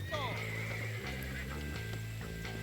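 A horse in Red Dead Redemption gives a short, close whinny at the start, followed by soft clip-clop hooves while someone talks over it.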